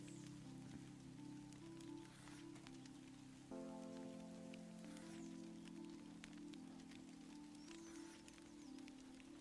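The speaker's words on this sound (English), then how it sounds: "Sounds like it's raining" Steady rainfall pattering on a surface in the video game The Excavation of Hob's Barrow, with a continuous low tonal drone underneath that shifts pitch partway through.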